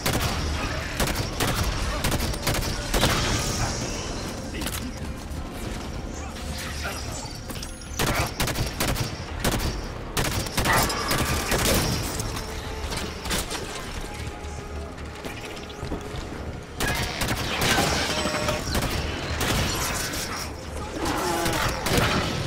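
Gunfire in Halo 5: Guardians rattles almost nonstop in sharp bursts and volleys, with mechanical clanks and crashes mixed in and occasional voices speaking over the combat.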